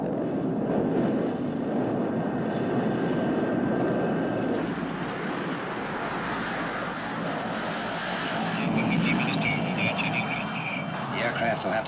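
A search aircraft drones overhead in a long, steady roar that swells toward the end, with speech heard beneath it.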